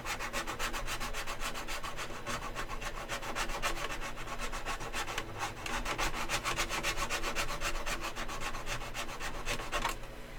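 A hand file rasps across a piece of glass in fast, even back-and-forth strokes. The scraping is close and continuous for about ten seconds, with no talk.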